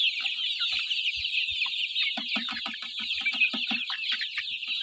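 Chicks on a poultry farm cluck and cheep nonstop, a dense chorus of high chirps with soft, rapid clucks that grow busier midway, heard close and without talk.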